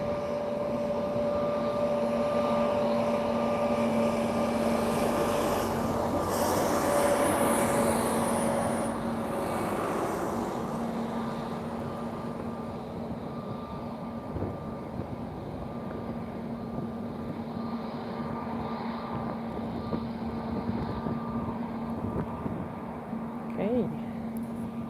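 Jet airliner landing at Lisbon Airport, a broad roar that swells over the first ten seconds and then eases into a steady rumble, heard from a distance outdoors with wind buffeting the microphone.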